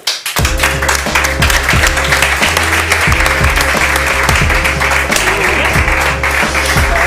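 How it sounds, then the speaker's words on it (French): Loud, dense applause from a comedy show audience greeting a comedian, with steady clapping and rhythmic thumps underneath, close and continuous throughout. "Je demande d'applaudir bien fort Valentin Renner."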